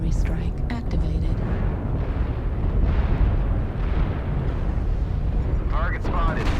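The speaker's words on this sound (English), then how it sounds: "Okay, drop a strike here. Artillery strike activated." Artillery strike explosions in MechWarrior Online produce a continuous, dense rumbling roar of blasts, with a game voice speaking briefly over them.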